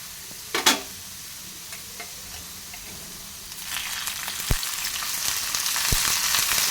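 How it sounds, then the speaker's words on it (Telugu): Green chilies and tomato frying in oil for a Rayalaseema-style peanut chutney, with a quiet start and a few sharp clicks before the sizzle swells and grows louder toward the end. "పచ్చిమిర్చి, టమోటా వేసి ఆయిల్ వేయాలి."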